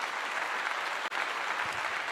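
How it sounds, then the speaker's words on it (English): Audience clapping at a Colorado football event, a steady burst of applause at fairly low level with a momentary dip partway through, no voices over it. "Give a clap here"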